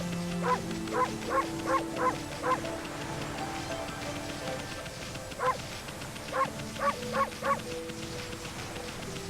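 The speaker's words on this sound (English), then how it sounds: "it is the same barking sound effect all the time, but it's just pitch shifted to by a random degree every time you bark" Pitch-shifted dog barks from Okami HD, short yips repeated in two quick bursts of four to five barks each, every bark at a slightly different pitch, clear over a low game backdrop.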